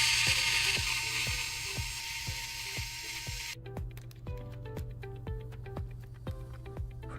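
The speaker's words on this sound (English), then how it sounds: "you will have to remove the 6 screws that are holding the hinges" Small hinge screws being driven out of a Lenovo ThinkPad X1 Yoga laptop with a ratcheting tool, a close, quiet series of regular clicks repeating about twice per second.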